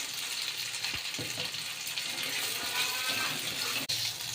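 Masala spice paste sautéing in a pan for butter paneer, a steady dense sizzle with occasional stirring scrapes and clicks, close and continuous without speech.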